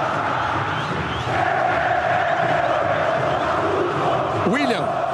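Football stadium crowd chanting at a Brazilian league match, Coritiba against Fluminense, a loud sustained roar of massed voices with a rhythmic chant rising, and a sharp whistle near the end.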